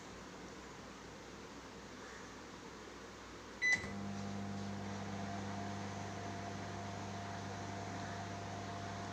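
Microwave oven heating malai chicken: a faint room hush, then a sharp click and beep as it starts, followed by a steady, close electrical hum that drones on unchanged.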